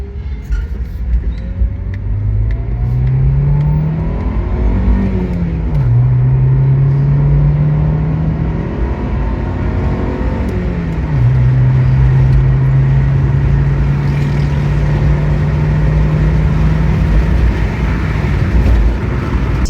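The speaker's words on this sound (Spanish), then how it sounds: "todavía podemos llegar hasta las 6000, en donde el ruido del motor resulta bastante" Honda Civic EJ engine fitted with a large muffler, revving in rising steps toward 6000 rpm and holding there, a steady, fairly loud drone that climbs, dips and climbs again.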